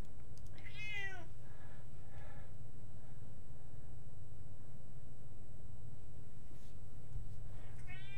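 A house cat indoors gives a clear meow, then a softer follow-up and a last meow after a quiet stretch, all over a steady low background hum.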